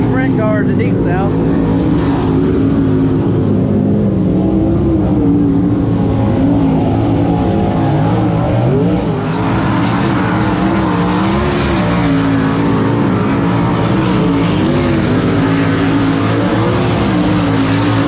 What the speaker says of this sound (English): Check out these sprint cars.